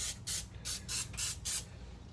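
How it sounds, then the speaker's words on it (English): Cooking spray from a can misted onto a ribeye steak as a binder, six short, sharp hissing bursts in quick succession with brief pauses between, close and alone. "when I do use a binder, it's like a cooking spray thing"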